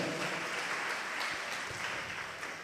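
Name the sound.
congregation clapping loudly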